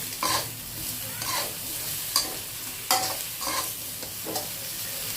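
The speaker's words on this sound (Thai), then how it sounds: "ใส่กุ้งลงไปเลยค่ะ ลุกเคล้าให้เข้ากันนะคะ" Shrimp stir-fried with chili and salt in a hot pan hiss in a loud continuous sizzle, with repeated metallic scrapes and clinks as the spatula tosses them.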